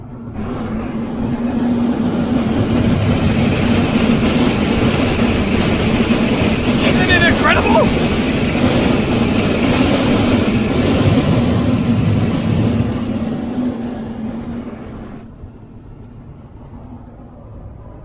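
Loud, steady roaring wind turbulence as the roof of a Mazda Miata opens fills most of the clip, with someone briefly talking over it, then dropping sharply to a quieter hum near the end.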